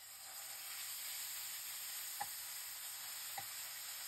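Mutton mince frying in hot oil in a pan: a faint, steady sizzle and hiss, with two soft clicks of stirring and no talk.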